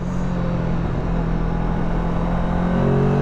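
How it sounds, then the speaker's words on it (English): Off-road vehicle riding snowy mountain trails in Idaho's South Hills, its engine droning and revving steadily while the tires spin for a moment, loud and continuous with broadband rumble and no talking. "A little bit of tire spin there."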